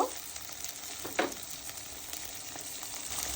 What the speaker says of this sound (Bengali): চিংড়িগুলোকেও আমি পেঁয়াজের সাথে ভালো করে একটু ভেজে নিব